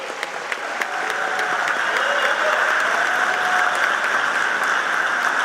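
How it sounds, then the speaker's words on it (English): A large audience in a legislative chamber applauds the Illinois Attorney General during the State of the State address, with a dense, steady roar of clapping that swells after a few scattered opening claps and continues throughout. "Please welcome and give a round of applause to our Honorable Attorney General, the Honorable Kwame Raoul."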